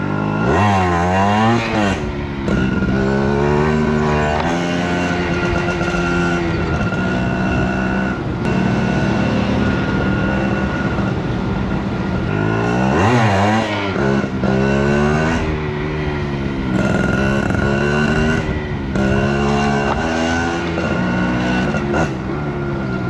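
A motorcycle rides along a concrete road, its engine droning loudly and continuously with repeated rising and falling revs as the rider shifts through gears.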